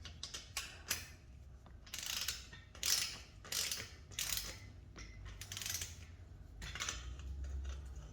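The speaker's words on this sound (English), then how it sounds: "then we'll use a ratchet" A ratchet tightens bolts while a Chamberlain garage door opener is installed, making close, crisp bursts of rapid clicking separated by short pauses. No talking is heard.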